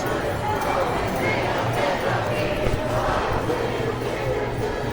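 A protest crowd at a No Kings demonstration murmurs and shouts behind people talking nearby, a dense, continuous mass of voices with scattered calls rising out of the din.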